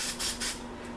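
Spray paint can spraying stars for spray paint art, with short hissing bursts, two or three close puffs in quick succession over a steady faint background hum.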